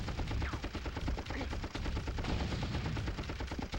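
Turrets in a Bruce Willis video game fire constantly in a rapid, unbroken rattle of shots with dull thuds underneath, faint and far off.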